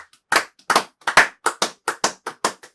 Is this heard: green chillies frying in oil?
no